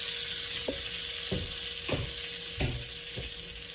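Butter melts and sizzles in a frying pan before bread goes in for French toast. A steady, close hiss runs throughout, with about five short scraping or stirring knocks spaced across it.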